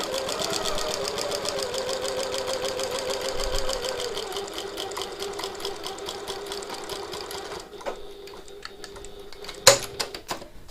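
A sewing machine runs a steady rapid stitching line along a tote bag seam, continuous mechanical chatter that slows and stops near the end, followed by a few light clicks and handling knocks.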